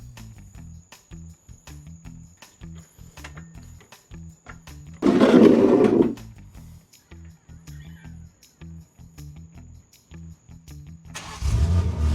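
A BMW M3 G80 with an exhaust valve controller idles with a steady, pulsing burble, then snaps into a loud, raspy rev that drops back to idle, and a second rev rises at the close.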